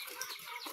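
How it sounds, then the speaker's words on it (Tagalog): Pet chickens at afternoon feeding time on a rural farm, giving soft, busy clucks and low murmurs that overlap in a steady, close flock chatter with no pauses. "Pakain na naman ako guys ng aking mga alaga kong manok."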